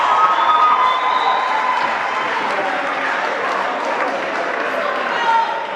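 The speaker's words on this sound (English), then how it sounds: "Please give Safo a round of applause" A debate audience gives a round of applause for a speaker, dense clapping and some cheering from a crowd that holds steady for several seconds at moderate loudness.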